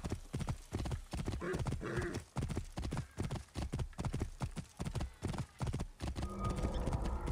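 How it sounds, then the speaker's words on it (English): Hooves of a galloping horse pound in a fast clip-clop rhythm in Assassin's Creed Origins, with a whinny rising over the gallop and the hoofbeats easing off near the end. "This horse is savage!"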